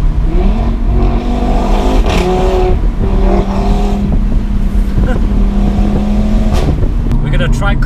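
An Audi RS3 hot hatch engine and exhaust drone loudly and steadily while driving, with rising and falling revs, valve-like pops and crackles, under cabin road noise.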